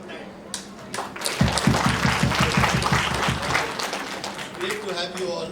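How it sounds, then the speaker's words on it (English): An audience at a patient experience and safety conference session breaks into applause, rising to a dense burst of clapping over a few seconds and then easing off, with a voice talking over it. "A round of applause for the people who come on time"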